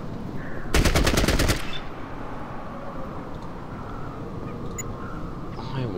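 An enemy in the game Fallout Tactics opens fire with a short, loud burst of rapid automatic gunfire lasting under a second, followed by a quieter steady background ambience.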